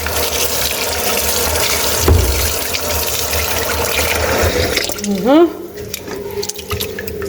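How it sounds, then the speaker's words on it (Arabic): Running tap water rinses couscous ingredients in a steady, close rush throughout, with a brief voice and a few splashes midway. "دركا نغسلو بالماء مليح حتى يعني تروح هذيك كاع"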